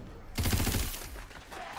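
A rapid burst of gunfire in the video game Tiny Tina's Wonderlands, a quick string of sharp shots lasting about half a second, followed by fainter echoing tails.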